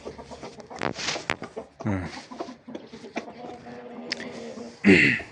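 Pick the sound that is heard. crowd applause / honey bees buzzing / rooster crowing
rooster crowing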